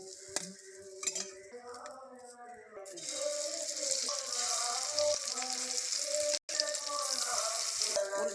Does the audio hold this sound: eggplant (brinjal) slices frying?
yes